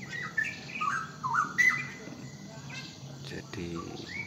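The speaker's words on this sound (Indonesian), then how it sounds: "kali ini akan melihat burung-burung yang ada di sekitar kandangnya si Mulan" Small birds chirp and tweet in short bright bursts around a colony aviary, several calls overlapping close by against a soft outdoor background.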